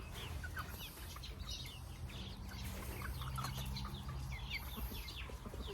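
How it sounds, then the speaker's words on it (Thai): Chicks and chickens cluck and peep softly while being fed in a backyard coop, with scattered chirps over a low, steady background and no voices. "นี่ก็ให้อาหารลูกไก่นะครับ"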